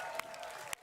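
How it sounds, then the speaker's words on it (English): Applause for athletes after a heavy shot put competition, a brief faint spatter of clapping from a crowd with a couple of sharper claps standing out. "Give a round of applause to all of our competitors."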